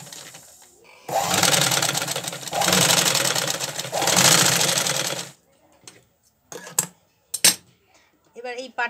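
A sewing machine stitches two chest pieces of a handmade Santa Claus doll together in three close, steady whirring runs, followed by a few faint clicks and handling sounds.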